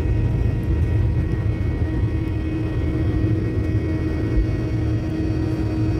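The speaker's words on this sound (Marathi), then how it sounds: "विमानाने उड्डाण केलेलं आहे। जमीन सोडलेली आहे।" An airplane accelerating down the runway and lifting off, a loud, steady low engine rumble and roar heard from inside the cabin, constant throughout without voices.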